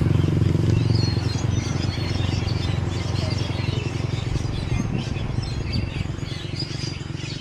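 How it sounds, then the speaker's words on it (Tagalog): Many birds chirp and tweet busily on Panay Island, a dense chorus of overlapping calls over a steady low rumble throughout. "Daming ibon."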